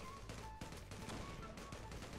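Steady bursts of rapid gunfire in the online shooter Zula Europe, dense and continuous with distant-sounding shots layered under a constant game soundscape.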